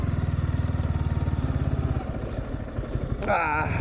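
A motorcycle engine putters in a fast, steady rhythm close by while riding to a practice ground, then the pulse fades as a voice speaks briefly over it near the end.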